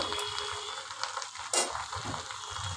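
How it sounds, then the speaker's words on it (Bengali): Red amaranth greens tossed and stirred in a pan, giving a soft, steady frying hiss with light scraping strokes and one brief sharp clatter midway. "আগে শাকগুলো খানিক্ষণ নাড়াচাড়া করে নিই"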